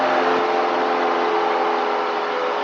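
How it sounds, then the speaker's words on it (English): A small training airplane's engine drones steadily in flight, a loud, continuous mid-pitched hum with a faint whine layered on top, holding constant with no voices over it. "Man, this engine really wants to go."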